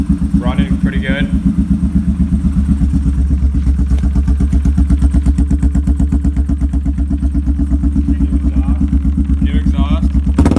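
A Ducati Scrambler 500 motorcycle engine with a new exhaust idles steadily up close with a rapid, even chugging throb, while brief bits of talk come through at the start and end.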